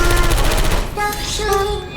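Rapid turret gunfire in Portal 2, a dense rattling stream of shots over a continuous hum, with tonal electronic beeps and whines rising through the second half.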